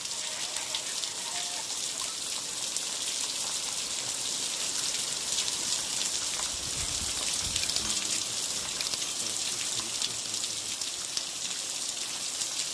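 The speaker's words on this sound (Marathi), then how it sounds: "अचानक पाऊस आला झाला आणि जोरात म्हणजे पाऊस खूप जोरात आहे" A heavy monsoon rain shower in Maan taluka pours down steadily, a dense, constant hiss of drops striking surfaces with no letup.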